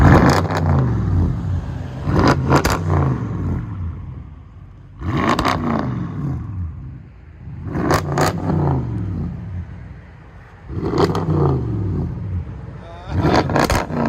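A twin-turbo sports car engine, a BMW M3 3.0 twin-turbo straight-six, revs hard in repeated sharp bursts about every two to three seconds, each rising then dropping back to idle, close and loud.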